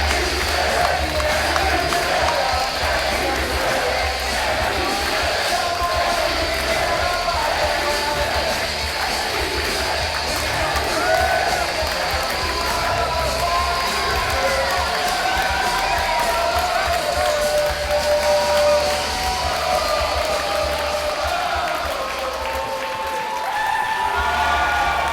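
A wrestling crowd at a no-holds-barred match roars continuously, with cheering, whoops and shouts layered over scattered applause, a loud, dense arena wash that stays steady throughout.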